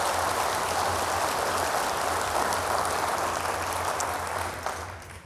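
An audience applauds at an awards ceremony, a dense, steady clapping that stays loud before tapering off near the end.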